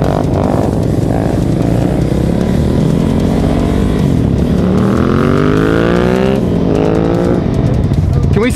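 Motorcycles start off and ride away on the road, engines revving up loud and close with rising, shifting pitch, with a voice briefly audible over them.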